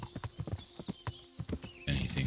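Horse hooves clip-clop in the medieval game Kingdom Come: Deliverance, a quick uneven run of hoofbeats close by with a brief whinny, ending in a louder burst of sound.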